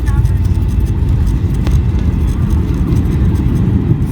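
An Icelandair Boeing 757-256 touches down on landing, with loud, steady low rumble and roar from the cabin, a brief thump mid-way, and people talking over it.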